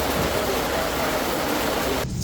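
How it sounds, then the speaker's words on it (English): Heavy rain pours down steadily as a thunderstorm strikes during installation of a 200 amp meter main combo panel, a dense close wash of downpour that cuts off abruptly near the end. "It's going to start downpouring."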